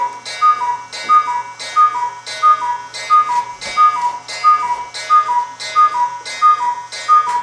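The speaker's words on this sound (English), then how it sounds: "That's the cuckoo clock." A cuckoo clock ticks in a room, with a loud, even tick-tock rhythm of about two beats per second, each beat carrying a bright, chiming edge, close by and alone without talk.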